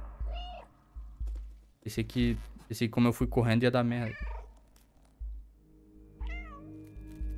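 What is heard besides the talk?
cat meowing in the video game Stray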